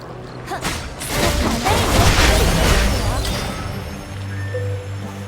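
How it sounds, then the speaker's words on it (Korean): A game sound effect in Eternal Return of a meteor falling: a booming crash with a rushing whoosh, followed by a lingering rumble and low hum. "운석이 떨어졌어"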